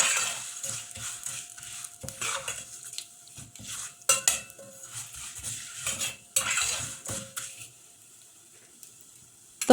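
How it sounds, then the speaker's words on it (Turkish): Thin vermicelli being stirred and roasted in a pot, with repeated close metallic scraping and clinking of a utensil against the pot in uneven bursts over a faint dry sizzle, no talking. "şehriyeleri sürekli karıştırarak kavuralım ki tüm şehriyeler eşit bir şekilde renk alsın"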